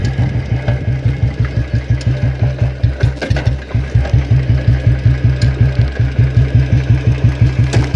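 A Royal Enfield Bullet motorcycle with a modified exhaust idles close by, its engine thumping in a steady, loud, even rhythm throughout with no talk.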